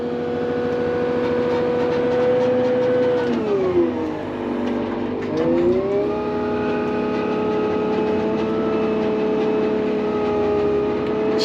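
The engine of a brand-new Hyundai HL980A wheel loader runs as a steady, loud drone. Its pitch sags briefly midway, then climbs back and holds evenly, with no talking.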